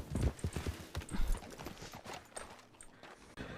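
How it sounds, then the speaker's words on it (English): Video game horse hooves in Red Dead Redemption roleplay clip-clop in a quick, uneven rhythm, strongest at first and then softer as the horse moves off. "Ooh, I hear a horse."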